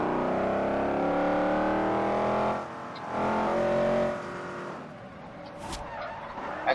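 Cars drifting in the racing game Forza Horizon 2: a steady, loud engine roar with tire squeal runs continuously, dipping briefly in the middle and easing toward the end before a short sharp burst.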